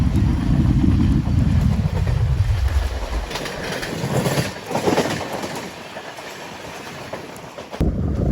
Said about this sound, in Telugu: ఇప్పుడు వెళ్ళిన అమృత్ భారత్ ఎక్స్ప్రెస్ ఏంటో తెలుసా?